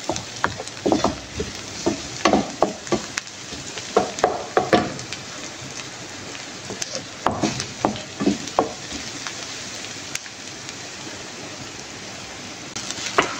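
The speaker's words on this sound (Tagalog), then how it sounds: "Sunod na natin yung bawang. Gisa lang natin tong ricado niya guys" Garlic sautéing in a pan of hot oil, a steady close sizzle with repeated sharp stirring and scraping clatters from a utensil, no talking.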